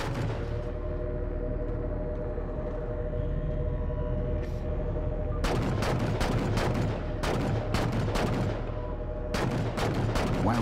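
Gunfire in the Halo 4 video game strikes the starboard side of a moving gondola, heard as dense bursts of rapid impacts over a steady low mechanical rumble that grow heavier and more frequent toward the end.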